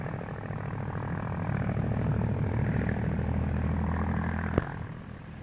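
A 1941-era propeller airplane drones steadily in flight, with a continuous low, throbbing engine hum that swells slightly and stays loud throughout, plus a brief sharp click near the end.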